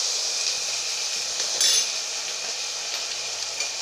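Vegetables and sauces, including green chili sauce and tomato sauce, being stirred and fried on a low flame for chilli paneer, giving a steady soft sizzle with occasional faint utensil clinks throughout.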